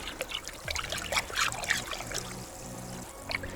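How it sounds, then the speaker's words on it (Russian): Water pours and trickles in uneven splashes onto a blueberry plant, quiet and close, with small gaps between bursts. "И поливаем нашу голубику."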